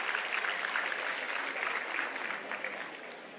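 Conference audience applauding as a welcome address begins, steady, even clapping from a large crowd heard at a moderate distance, fading slightly at the end.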